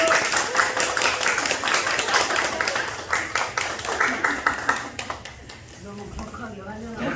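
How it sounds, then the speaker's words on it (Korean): Audience in a church gathering applauds to welcome a speaker, with dense clapping fading into scattered claps, while a person talks over it toward the end. "나오실 때 뜨거운 박수로 환영합니다."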